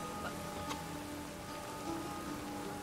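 Steady rain falling in the Witcher 3 game world, a soft, even patter on surfaces that stays faint and continuous, with a few light tonal sounds from the game drifting over it.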